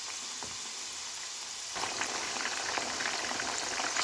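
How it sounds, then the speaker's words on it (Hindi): Chicken pieces frying in oil, a continuous close bubbling sizzle that grows louder and busier partway through as the pieces go in, with no talking. "जब आपने चिकन के पीसेस ऑयल में डालने हैं"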